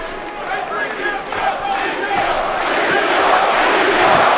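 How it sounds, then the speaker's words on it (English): Heavyweight boxing crowd in an arena roaring after a Klitschko right hand against Thompson, a loud rising wall of cheers and shouts that swells toward the end. "Right hand by Klitschko. And the crowd comes alive for that."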